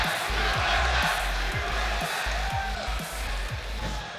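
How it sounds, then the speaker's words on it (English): A large esports arena crowd at a Counter-Strike match, chanting in a steady rhythmic pulse of repeated beats over a broad roar, loud and close throughout. "We can hear the chants, of course, coming in from the crowd, too."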